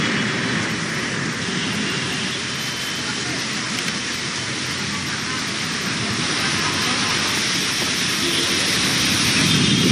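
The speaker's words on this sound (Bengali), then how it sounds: "নাগাড়ে বৃষ্টি" Heavy, continuous rain pours down over Kolkata during a daytime downpour, a dense even roar of drops with a low rumbling background that swells slightly toward the end.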